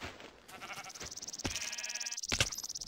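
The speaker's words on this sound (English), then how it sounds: "Damn it, sheep!" Minecraft sheep bleat in a wavering, nasal cry that swells louder toward the end, heard up close over game ambience with no talking.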